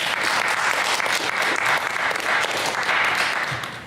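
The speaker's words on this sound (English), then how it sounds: "So everybody clap it up for Will." Audience applause at a community talk event, a dense, loud burst of many hands clapping that holds steady for several seconds before starting to fade.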